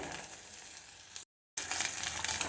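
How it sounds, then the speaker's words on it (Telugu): Oil sizzling in a pan as jackfruit seeds go in, a steady hiss that cuts out briefly to near silence, then returns louder and brighter. "పనసగింజలు వేస్తున్నాను చూడండి"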